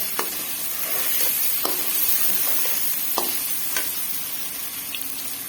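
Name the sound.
tomatoes sizzling as they are added to frying pan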